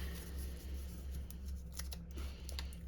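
A few quick snips of scissors cutting through twine, soft crisp clicks over a low background hum.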